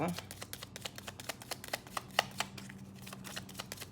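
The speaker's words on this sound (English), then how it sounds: "One more shuffle." A deck of tarot-style reading cards is shuffled for a pick-a-card reading, giving a quick, steady patter of crisp riffling flicks that runs close and alone.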